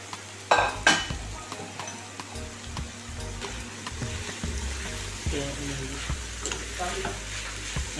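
Seasonings cook in a pan as the base for a Jamaican ackee and saltfish, a lively sizzle broken by repeated stirring scrapes and clatter of a utensil against the pan.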